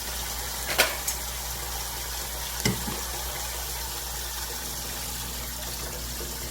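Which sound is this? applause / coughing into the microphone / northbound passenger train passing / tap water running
tap water running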